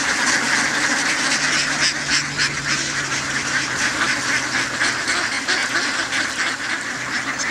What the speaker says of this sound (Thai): เป็ดจะลงกินหอยเชอรี่ศัตรูข้าวตัวฉกาจและหนอนแมลงเล็กๆในนาข้าว